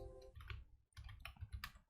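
Soft, faint clicks come from the Tab key being pressed on a computer keyboard while working in a Linux terminal network tool, as a few quiet keystrokes spaced apart.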